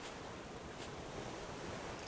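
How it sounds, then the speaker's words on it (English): Ocean waves in a video game give a steady, dense roar of surf with no breaks, noisy and wind-like, filling the whole stretch without voices. "God, the waves were loud."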